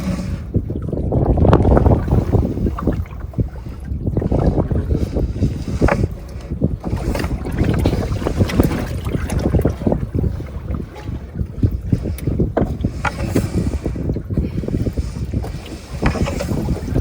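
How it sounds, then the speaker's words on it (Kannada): Wind gusts around a fishing boat at sea, with a loud, rumbling buffeting against the microphone and irregular thumps of water and hull, continuous and close throughout. "ಗಾಳಿ ಹೊರಗಿದೆ."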